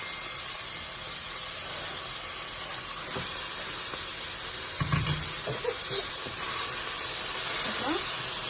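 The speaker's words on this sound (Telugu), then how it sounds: "పాలకూర వేయించుకుందాం." Chopped spinach (palak) sizzles and hisses as it fries in a pan with coriander and mint for palak rice, a steady broadband hiss with a few louder bursts of spattering midway.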